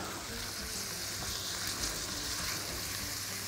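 Onions frying in a pan for a chicken with chickpeas and cream dish, a steady close sizzle with a brief stir partway through, no voices.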